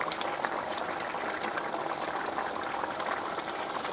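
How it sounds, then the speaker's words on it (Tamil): Baby corn masala gravy bubbling as it boils in the pan, a steady dense burbling and hiss that holds close and even from start to finish with no talk over it. "கிரேவி நல்லா கொதிச்சு வந்துருச்சு."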